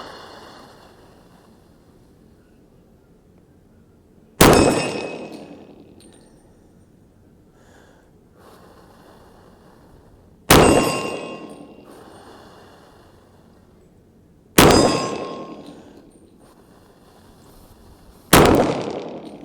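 Bullets striking a steel target plate at 50 yards ring out as four sharp metallic clangs, spaced several seconds apart, each decaying into a brief ringing tail over quiet outdoor background.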